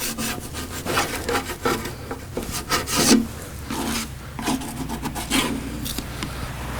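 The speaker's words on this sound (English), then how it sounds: "I might be able to take care of that with a sander." An abrasive rubbing against wood on a Mortal Kombat II arcade cabinet while stubborn spots are worked off, giving a steady run of close, gritty rasping strokes that swell and fade over several seconds.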